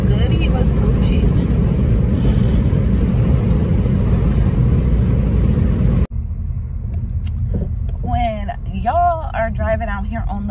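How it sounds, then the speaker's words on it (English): A car drives on the road, its engine and tyre rumble loud and steady, then the sound cuts abruptly to a quieter cabin where a person talks over the continuing hum. "Driving out here on the road"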